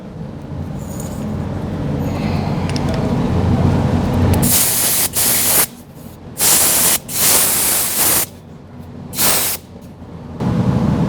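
An air-powered spray gun applies Mopar undercoating to a vehicle, a loud, harsh steady hiss of compressed air and spray, starting after a quieter rumble, then broken into several bursts with short pauses between.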